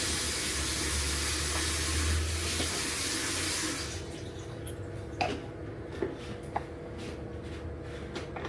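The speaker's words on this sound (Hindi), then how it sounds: "साथ के साथ ही शेकर को धो देता हूँ" A kitchen tap runs steadily while a protein shaker is washed, a loud, continuous water rush for about four seconds that then drops to a softer trickle with a few clinks and drips.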